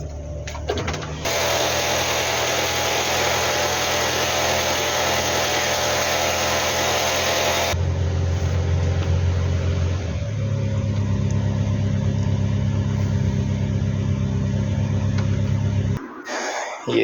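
A Hillman Superminx engine cranks over on a weak, dying battery and then runs with a steady mid-pitched drone up close. The tone shifts partway through, and the sound stops abruptly near the end.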